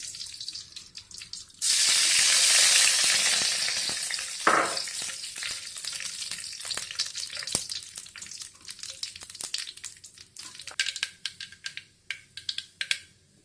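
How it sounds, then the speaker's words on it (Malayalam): Mustard seeds hit hot coconut oil with a sudden loud sizzle, then crackle and pop in sharp, irregular bursts for several seconds. "ചൂടായ എണ്ണയിലേക്ക് കടുകിടാം."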